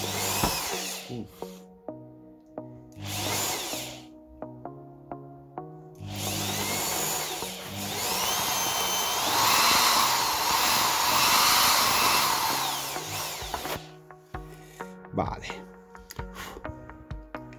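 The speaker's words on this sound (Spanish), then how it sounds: "Y vamos a ir agujerando con mucho cuidado porque se va muchísimo" Power drill boring holes through a BMW R 1200 GS motorcycle footpeg, the whine rising and falling in several bursts with a long sustained stretch in the middle, close up, with people talking between bursts.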